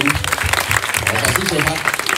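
Audience applause at a Balinese comic mask dance performance in Bangli, a dense, steady patter of clapping sustained throughout with voices mixed in.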